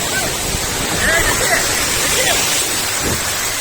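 Water pouring and splashing at a resort waterfall in Kundapura, Karnataka, as a dense, loud, continuous rush with faint voices and shouts mixed into the roar.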